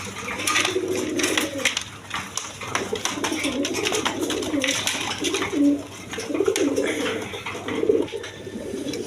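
Red Maltese pigeons coo repeatedly at close range, a continuous run of low throaty calls with brief pauses, and a faint voice is heard now and then in the background.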